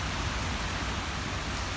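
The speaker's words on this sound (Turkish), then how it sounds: "İp gibi yağmur yağıyor." Heavy rain pours down steadily during a sudden summer downpour seen from a balcony in Zonguldak, a dense, even hiss of water striking surfaces close by, with no voices and no break in the roar.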